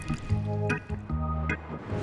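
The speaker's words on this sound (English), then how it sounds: "the team wets the string because water should dramatically increase its conductivity" Water poured onto a kite string, giving wet squishing drips and short liquid gurgles in a quick irregular sequence, close up with no speech.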